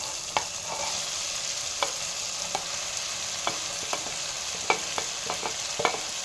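Potatoes tossed into a pan of sautéed tomato, green chili and curry leaves, a steady close sizzle broken by repeated sharp spatula scrapes and knocks at irregular intervals.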